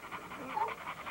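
Dog panting in a kennel yard, a Blue Bubba female, with steady rhythmic breaths at moderate level and faint background noise.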